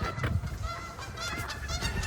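Geese honk repeatedly in the background of an outdoor walk, a steady scatter of nasal calls at moderate distance over low wind rumble.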